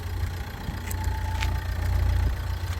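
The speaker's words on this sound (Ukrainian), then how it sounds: "Дизельний двигун, чуєте, працює." A 2013 Nissan Qashqai with a 1.5-litre 110 hp diesel engine idles at an outdoor car market, a steady low hum with a faint rattling texture and occasional small background noises.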